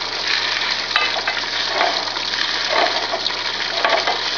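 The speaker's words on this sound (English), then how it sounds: "So just give that a nice little bit of a stir." Stuffing being stirred in a hot steel pot makes a soft sizzling, scraping and shuffling sound, with a few light clinks of the utensil against the metal.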